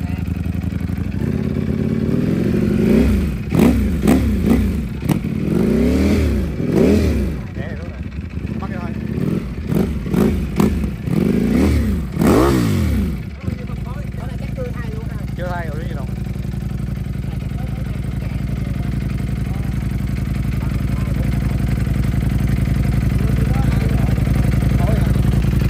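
A faulty motorcycle engine revs in repeated rough bursts with a clattering knock, then drops to a steady idle drone while people talk over it.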